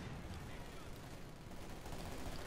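Rifle grenade and small-arms gunfire in Company of Heroes 2, a dense, continuous wash of battle noise with rapid overlapping shots and blasts, under a caster's talk.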